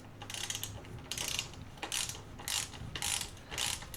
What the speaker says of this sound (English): then reinstall the foot peg, and tighten the foot peg bolts